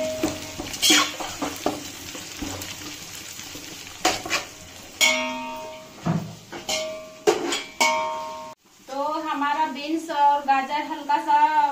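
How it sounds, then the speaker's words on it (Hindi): Beans and carrots are lightly fried in a pan for chicken pulao, with a utensil scraping and clattering against the pan and a soft sizzle, while a voice talks in between. "अब इसमें हम लोग डालेंगे ये बीन्स है और ये है गाजर। अब इसको भी हम लोग को हल्का फ्राई करना होगा।"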